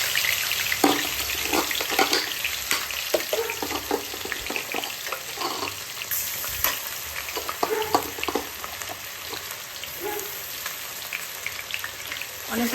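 Onion, green chilli and ginger paste fry in a kadai with a loud, steady sizzle, broken by frequent clattering stirs and scrapes throughout, with no voices.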